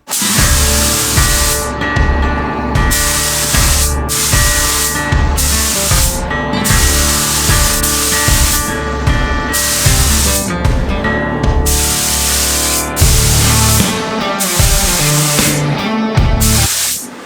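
A spray gun paints a Harley Davidson FXRT fairing, with loud, close hissing bursts that start and stop repeatedly in short passes of a second or two, with no talking.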